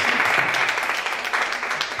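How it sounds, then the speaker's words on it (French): Audience applause at a Jeu Royal de Correction ceremony after a jury president is introduced: dense, steady clapping from a room full of people, loud and continuous for about two seconds. "ça s'applaudit, hein, ça s'applaudit."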